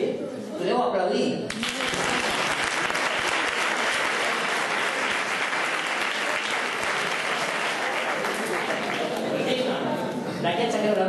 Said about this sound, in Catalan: Podeu aplaudir?